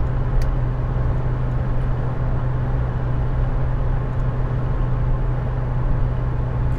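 An Austin Metro cruising on the motorway, a steady low engine and road drone with constant tyre rumble heard from inside the cabin, loud and unchanging.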